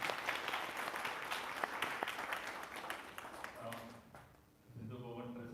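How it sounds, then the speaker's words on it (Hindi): A yoga camp audience claps for an organiser, dense applause for about four seconds that thins out, followed by a voice speaking over the fading claps. "उनके लिए पहले तालियां बजाई जाए"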